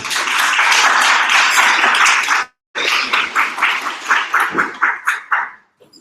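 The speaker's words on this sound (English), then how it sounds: "If we could just give them a round of applause." Audience applause for two debate teams at a public debate, loud and dense, breaking off briefly before resuming and then thinning into scattered single claps that fade out.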